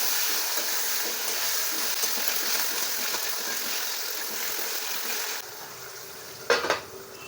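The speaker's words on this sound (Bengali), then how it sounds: "এবারে আমি খুব ভালো করে আলুগুলোকে ভেজে নেব।" Potatoes with a pinch of turmeric fry in oil in a pan, a continuous close sizzle that drops abruptly, followed by a couple of clinks of a utensil.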